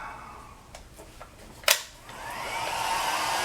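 A hot air blower heats an engine fan clutch with a steady breathy rush of air, broken by a short sharp click partway through, then the airflow swells louder and holds.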